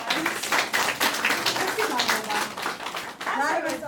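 Clapping rings out at a public school farewell ceremony for fourth-grade students, a steady patter of many hands under a speaking voice throughout.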